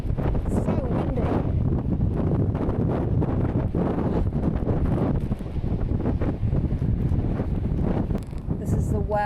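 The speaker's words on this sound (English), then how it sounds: "it's windy. It's so windy." Strong coastal wind buffets the microphone in a loud, continuous roar near ocean waves on a wilderness walking trail, with a person talking over it throughout.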